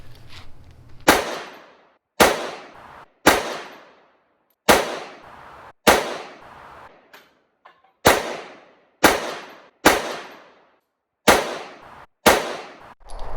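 Ten sharp pistol shots from a SIG P365 firing 110 grain MagTech ammunition at an outdoor range, spaced roughly a second apart, each loud and close with a short decaying echo, with no talking.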